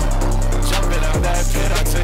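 A short snippet of music in the style of an American rapper plays, with a heavy pulsing bass, a sliding low note and bright hissy percussion repeating throughout.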